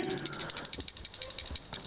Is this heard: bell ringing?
yes